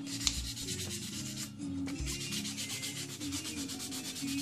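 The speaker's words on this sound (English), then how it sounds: "when you're sanding on these things like this" Steady rhythmic rubbing and scratching of sandpaper on a wooden pipe, close up, in quick back-and-forth strokes with a brief pause midway.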